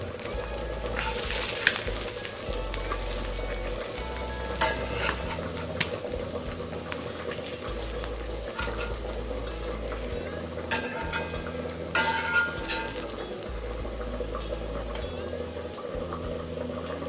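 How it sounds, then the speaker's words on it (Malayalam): Steady crackling sizzle of sardines frying in coconut oil, continuous throughout with occasional louder pops and spatters. "വെളിച്ചെണ്ണയിൽ മൊരിയിച്ചെടുത്ത ചാള പൊരിച്ചത്"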